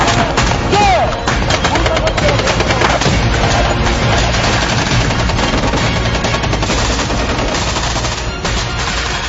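Dense, loud gunfire fills a South Korean simulated war-game combat training exercise, with rapid machine-gun bursts and overlapping shots continuing without pause and shouting mixed in.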